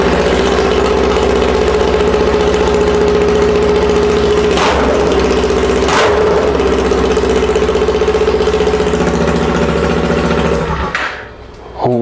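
A Kawasaki Z400 ABS motorcycle engine runs with no exhaust fitted, a loud, close, raw steady idle with a couple of brief throttle blips before it drops off near the end.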